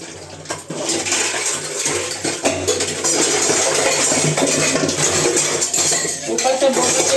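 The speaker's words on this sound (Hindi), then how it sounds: "अब बर्तन मांज लूँ पहले" Dishes being scrubbed under a running tap, with steady water noise, clinks of pots and utensils and a faint voice now and then.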